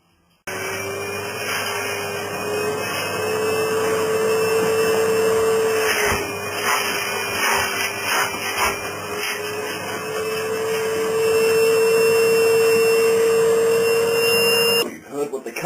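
A Numatic Handy Hoover vacuum cleaner runs with a steady motor whine and broad hum that rises slightly in pitch partway through, with voices talking over it before it cuts off abruptly near the end.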